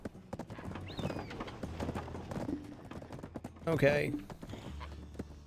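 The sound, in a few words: horse galloping in a video game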